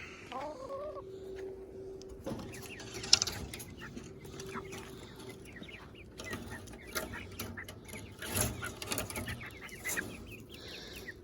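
Young chicks nearly grown into chickens, penned behind a gate, give soft clucks mixed with high, thin chick chirps, scattered irregularly at close range, with a brief louder flutter partway through.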